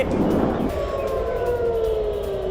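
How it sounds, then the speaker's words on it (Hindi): An air raid siren sounds in Tel Aviv as a missile attack warning, with a long wailing tone that slowly falls in pitch over a dense, noisy background. "तेल अवीव में मिसाइल हमलों के सायरन बज रहे हैं।"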